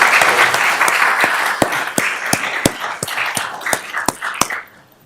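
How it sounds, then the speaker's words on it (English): A council meeting audience gives the color guard a round of applause, with dense, fairly loud clapping and distinct individual claps that thin out and fade to near silence at the end. "Let's give a round of applause for our color guard"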